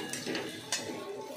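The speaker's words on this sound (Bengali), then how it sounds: "আবারও এটা খুব ভালোভাবে একটু নেড়ে নেব" Fried Maggi noodles with onion and Maggi masala stirred in a pan, a utensil scraping and clinking against the metal in a few close, brisk strokes with a sharper knock partway through.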